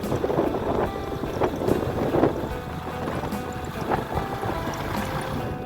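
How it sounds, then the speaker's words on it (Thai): Outdoors in rural Laos, wind gusts across the microphone in a steady, loud rush with uneven buffeting and no voices. "วันนี้อากาศดีบ่ร้อนอบอ้าวแล้วก็มีลม"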